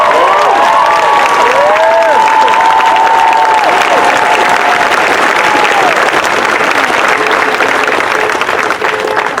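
A large outdoor crowd on a city hall lawn at a George Floyd justice rally cheers and applauds loudly and continuously, with whoops and shouted voices rising over steady dense clapping throughout.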